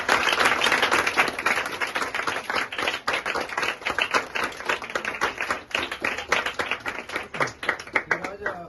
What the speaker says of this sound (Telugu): ఒకసారి గట్టిగా క్లాప్స్ కొట్టి వెల్కమ్ చేస్తారు